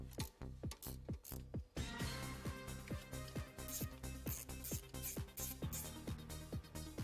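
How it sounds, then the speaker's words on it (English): A ratchet wrench clicks rapidly while unscrewing two bolts on a Saab 2.8-litre V6 engine during timing belt work, with steady close ratcheting strokes and a brief pause partway through. "Unscrew the 2 bolts."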